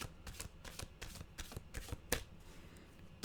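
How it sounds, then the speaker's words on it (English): Cards shuffled by hand in a quick, soft, rapid flutter of riffles and slaps, faint and close, with no talking. "Those cards really needed a shuffle."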